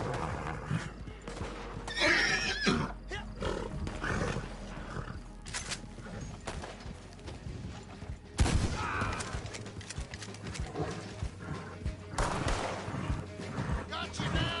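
A horse in the Western video game Red Dead Online gives several loud whinnies and snorts, mixed with hoofbeats and gunfire-like bursts in a busy game soundscape.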